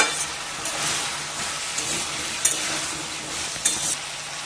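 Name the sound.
spice paste being fried and stirred for taro curry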